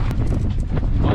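Gusty wind buffets the microphone on a boat shark fishing in Cockburn Sound, a loud, steady low rumble with brief flutters, heard alone for a moment.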